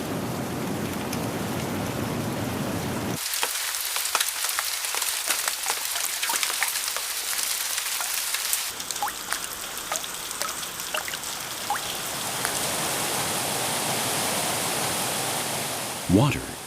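Torrential rain pours down in a rainforest, a dense continuous roar of drops that shifts in character partway through and grows into a heavy, even downpour, with a brief low thump near the end.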